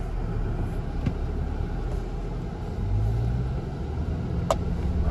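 A stock Ford Bronco on hard tires crawls off-road in 4-low crawler gear, its engine a steady, close low rumble with a few faint knocks and clicks over it.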